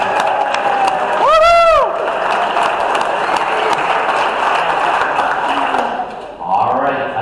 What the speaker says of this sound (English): give him a full round of applause